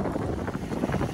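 Strong wind gusting across a microphone on a shallow rocky sea cliff during shore fishing, a steady loud rumbling roar with buffeting surges throughout and no talk.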